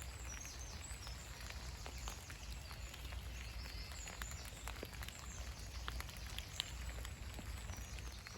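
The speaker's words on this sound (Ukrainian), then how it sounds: "Іде дощ." Steady patter of rain falling in a quiet forest, soft continuous drizzle with scattered drops, no voices.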